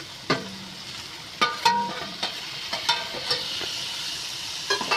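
Coriander leaves roasting with tomato in a pan: a soft steady sizzle broken by several sharp scrapes and clinks of a spatula stirring, close and with no voices.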